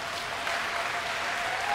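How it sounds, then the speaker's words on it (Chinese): A concert audience claps steadily for a saxophone ensemble after a medley. The dense, even applause fills the whole short stretch without rising or falling. "大家是不是应该要更热烈的鼓掌一下"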